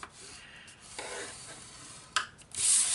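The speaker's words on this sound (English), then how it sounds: "Score along all 4 sides at 1/2 inch" A stylus scores cardstock at half an inch along the sides in short, close scraping strokes. A few brief louder rubs come near the end.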